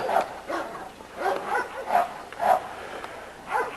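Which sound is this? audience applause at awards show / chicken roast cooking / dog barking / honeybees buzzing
dog barking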